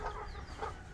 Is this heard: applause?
no